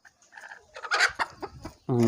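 Hens cluck in short bursts, ending in a louder, drawn-out squawk close by.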